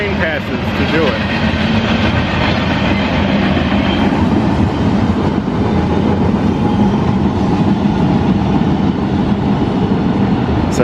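A train rolls steadily past at close range in Syracuse in the snow, a loud continuous rumble of wheels and rail noise filling the whole stretch, with some voices underneath.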